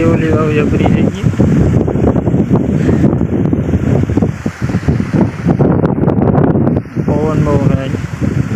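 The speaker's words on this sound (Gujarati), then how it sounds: "પવન બહુ થાય." Strong gusty wind roars against the microphone in an open farm field growing sorghum, loud and constant, while people talk throughout.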